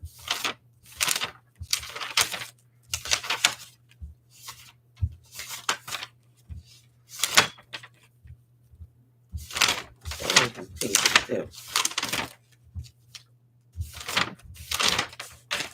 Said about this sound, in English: There's some stiff paper.